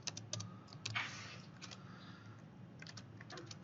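Light keystrokes on a computer keyboard tap in small quick clusters, close but quiet, with brief pauses between bursts.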